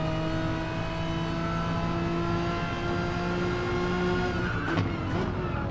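Renault Megane one-make race cars racing at the Red Bull Ring, a loud sustained engine roar with steady whining tones, heard close and without talk, shifting slightly near the end as a car passes.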